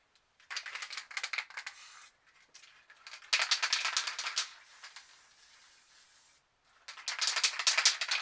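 A can of white spray paint hisses in three longer bursts separated by brief pauses, each a steady, fairly close spray with a slight rattling texture.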